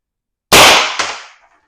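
A single sharp, loud shot from a CO2-powered X.68 marker, heard close up and alone in silence, followed by a quick secondary crack and a short fading hiss.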